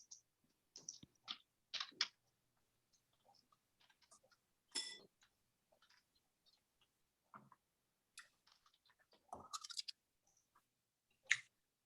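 Scattered keystrokes on a computer keyboard during a public development meeting, sounding as sparse, quiet clicks and short bursts of typing separated by pauses in an otherwise hushed room.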